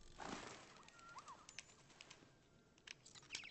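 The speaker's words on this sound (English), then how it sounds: "we got some birds going on" Robot birds in the Detroit: Become Human video game give faint chirps and cooing calls over a soft background hiss, with a few light clicks scattered through.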